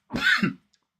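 A person gives one short, rough throat-clearing cough after a smoke hit, close and fairly loud, with no talking around it.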